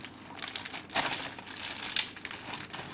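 A plastic bag is squeezed to push the air out, a close, crisp crinkling that comes in irregular bursts and peaks midway.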